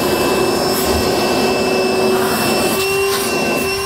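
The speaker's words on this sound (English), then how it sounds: "I'm gonna go ahead and just vacuum up our metal shavings here." A shop vacuum roars steadily while sucking up metal shavings beside a 2022 GMC truck during a gooseneck hitch install, with a loud constant whine and no speech.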